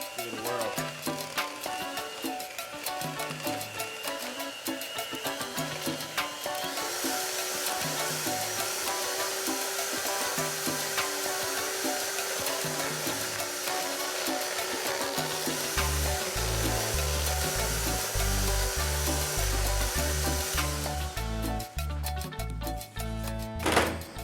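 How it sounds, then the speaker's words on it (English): Electric egg beaters whirl steadily while mixing a batch for Parmesan crisps, a continuous close motor whine that holds for most of the stretch with faint background talk. "I'm going to take my egg beaters here"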